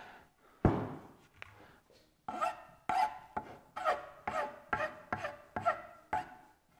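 A file is pushed over veneer on a hard pad: one heavy stroke, then about nine evenly spaced rasping strokes, close and crisp, without talk.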